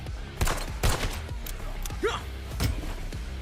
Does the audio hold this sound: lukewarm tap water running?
no